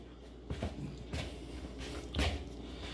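Homemade filled bread dough is kneaded by hand, giving soft, damp squishes and slaps that recur irregularly at close range against a steady low background hum, with no talk over them.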